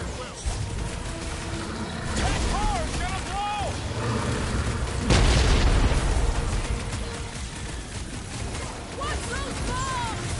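Bombs going off in the Marvel's Guardians of the Galaxy video game, loud booming bursts with one big blast midway, layered over music, effects and character voices talking throughout.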